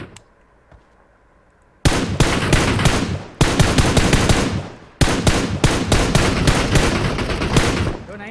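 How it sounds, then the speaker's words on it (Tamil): Automatic rifle fire in PUBG Mobile, loud sustained bursts with brief gaps between them, starting after a quiet opening. "கன் எடுத்து சுடுறதுக்கு"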